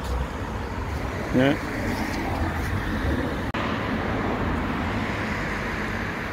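Steady road traffic along Barking high road, with cars rumbling past in a continuous broadband wash throughout, and a brief voice speaking near the start.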